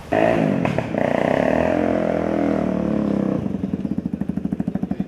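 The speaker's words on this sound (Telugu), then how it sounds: "ఈ బైక్ కనిపిస్తుందా మీకు?" A student-built motorcycle from KL University runs with a steady mid-pitched engine drone, then settles into a rhythmic, pulsing idle toward the end, close and fairly loud.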